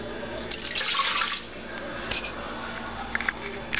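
Water poured into the pan of a Hamilton Beach Home Baker bread machine, model 29881, a short close splashing stream that tails off into quiet room noise.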